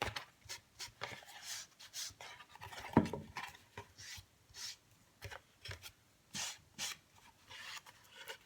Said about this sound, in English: you can put the ink on your applicator and just simply rub it